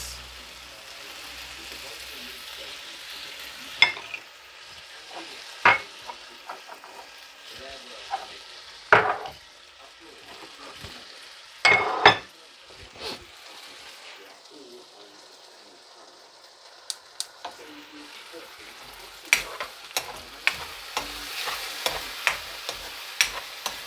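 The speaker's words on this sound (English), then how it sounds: "So now I'm gonna put in my sauce." Sauce hits steak and sweet peppers frying in a pan, giving a soft steady sizzle punctuated by several sharp clinks and scrapes of stirring, faint and close.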